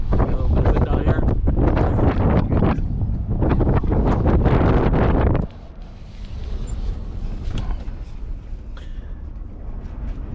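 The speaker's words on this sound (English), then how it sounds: "The wind has been coming out of the north," Strong wind roars over the microphone while driving through the Glamis sand dunes in the North Algodones area, loud and buffeting for the first half, then dropping to a softer, steady rush.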